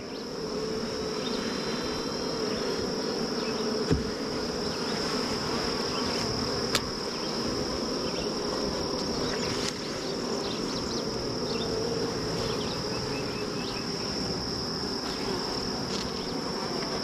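A massive honeybee swarm fills the air with a dense, continuous buzzing drone, loud and steady throughout, with a few faint louder passes of individual bees close by.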